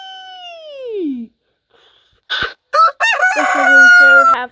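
A rooster crows once with a long falling call, then after a pause a few short clucks and a second louder, drawn-out crow, close and clear, with no other sound between.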